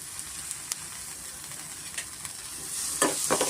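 Tomatoes and shredded cabbage sizzling lightly in a pan, with a soft continuous hiss and a few scattered clicks of stirring, growing a little louder toward the end.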